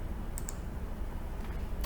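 Keys tapped on a computer keyboard while entering a formula in MS Access, a few quick, light clicks close by over a faint steady background hum.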